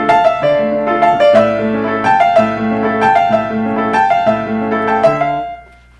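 Piano plays the coda theme of Beethoven's Tempest Sonata with forceful, accented chords in repeated driving phrases, loud and dense with no voices, ringing off into a decay near the end.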